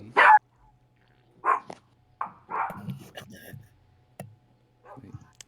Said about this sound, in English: my coughs sound like barks sometimes.